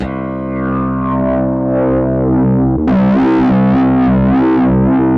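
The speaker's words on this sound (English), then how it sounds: "let's get a bit of a distorted tone" An Endorphin.es Ghost pedal shaping a distorted tone through a modulated filter, a sustained buzzing chord whose timbre sweeps in slow wavering waves, brightening sharply midway, with no talking.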